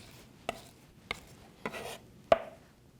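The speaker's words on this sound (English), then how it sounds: "to crush it, we're just going to use the flat end of the knife" Garlic cloves smashed under the flat of a kitchen knife give four sharp, separate thumps about half a second apart, close and distinct against a quiet room.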